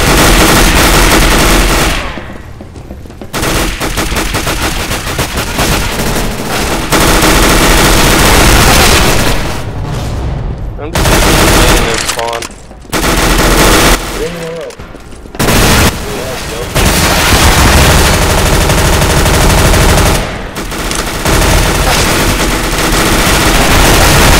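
Counter-Strike GO gunfire in an Arms Race match rattles loud and nearly continuous, with machine-gun bursts and booming shots broken by only brief gaps, and voices talking over the din.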